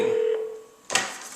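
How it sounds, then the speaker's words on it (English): A Nortel phone system extension gives a short electronic tone that holds briefly and fades, then a bright burst of ringing follows, loud and close with no talking. "now extension 222 is ringing"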